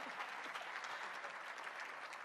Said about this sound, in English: You're not going to clap for them?